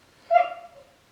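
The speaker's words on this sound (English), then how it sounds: "Sorry about the dogs." A dog lets out a single short whine or whimper at home, wanting to be let outside, close by and moderately loud, fading out over about half a second.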